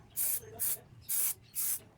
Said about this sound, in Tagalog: in-spray ko na ng brake spray cleaning